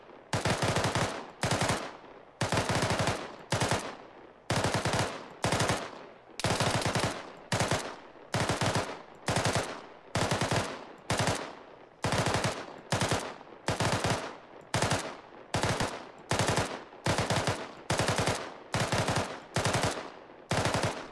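Machine guns trade fire in a talking-guns drill in Arma 3: some twenty evenly paced, loud bursts of rapid automatic fire, each followed by a brief pause before the next, steady and close.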